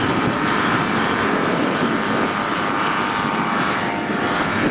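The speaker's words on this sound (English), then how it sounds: "The aerobatic ultralight" An aerobatic ultralight aircraft's propeller engine drones loud and steady at an air show, a continuous buzzing roar that fills the whole stretch with no voices over it.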